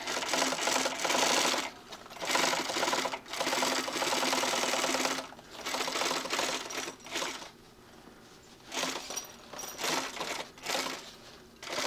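Close up, a cylinder bed binding sewing machine stitches around curves on a tech kit, running in long and short bursts of fast rattling stitching with pauses between, and no voices.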